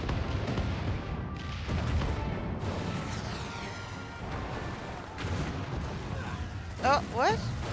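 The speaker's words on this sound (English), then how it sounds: "All cannons! Fire at will!" Ship cannons in the Final Fantasy XIV Stormblood battle fire in muffled booming bursts under ongoing game sounds and voices, with a few sharper hits near the end.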